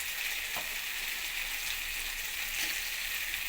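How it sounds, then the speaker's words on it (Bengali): Chopped yardlong beans hiss and sizzle as they go into a pan of frying potatoes, a dense, steady close-up crackle with a couple of soft knocks and no talk. "কেটে রাখা বরবটিটা দিয়ে"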